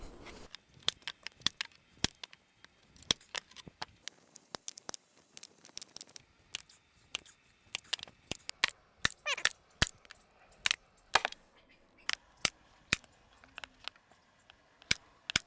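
Carpet for a cat shelf is trimmed with sharp, irregular snips and clicks, some in quick bursts, against a quiet background with faint handling noise.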